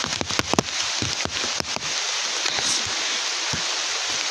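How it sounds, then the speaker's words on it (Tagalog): Typhoon rain and strong wind on a mountain roar in a steady, dense wash, with a burst of close knocks and pattering impacts early on before the noise settles into a continuous hiss. "Sobrang lakas ng hangin guys,"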